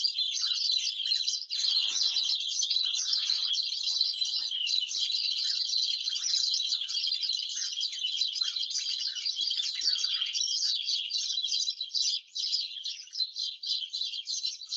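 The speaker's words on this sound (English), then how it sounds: "a cacophony of singing birds" Many birds chirp and sing at once in a dense, continuous high-pitched chorus, with no voices.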